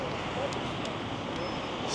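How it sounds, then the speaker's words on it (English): Ocean waves breaking at Santa Monica beach, a steady broadband wash of surf with wind noise rumbling across the microphone throughout, fairly loud and continuous with no voices. "There's the waves."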